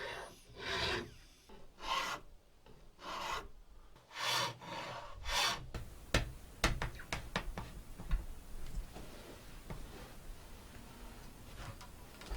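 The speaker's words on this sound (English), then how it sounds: "So I'm going to go ahead and do that with a few files and some sandpaper." Files and sandpaper shape the heel of a wooden guitar neck, with slow rasping strokes at first and then quicker, lighter scraping taps, heard close and alone.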